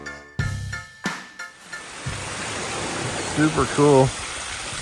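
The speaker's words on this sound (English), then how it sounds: "Waterfall right down into Lake Superior." A waterfall pouring into Lake Superior rushes with a steady broadband roar, while a person speaks briefly over the constant water noise.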